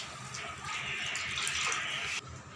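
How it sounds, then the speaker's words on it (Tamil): Tamarind water is poured into a pot of fish curry in a soft, splashing gush that swells and then cuts off sharply, quiet and close. "இப்போ நம்ம புளி தண்ணி போட்டுக்கோம்."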